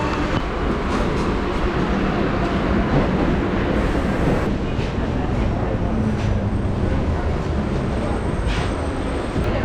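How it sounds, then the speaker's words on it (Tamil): A crowded Chennai suburban train bound for Chengalpattu rolls in, a steady broadband rumble of wheels and cars filling the whole stretch at close range, with voices of people on the platform murmuring underneath. "இப்போ செங்கல்பட்டு போகிற ட்ரெயின் வருது"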